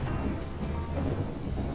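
Rain falls steadily during a rainy season in a video game, with a deep thunder rumble rolling beneath it, a dense continuous wash of sound with no voices.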